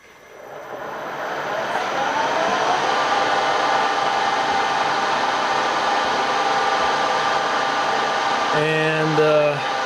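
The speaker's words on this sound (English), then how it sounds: "let's turn on the converter" Power converter switched on in an RV, giving a steady broadband whir like a fan or blower that runs continuously at moderate loudness, with a brief tonal hum near the end.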